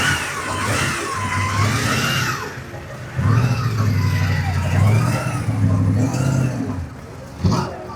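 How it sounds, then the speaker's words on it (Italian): A vintage Alfa Romeo eight-cylinder car engine, running with rising and falling revs in bursts, a deep throbbing exhaust note heard close amid other noise. "La musica dell'8 cilindri Alfa Romeo che si risveglia."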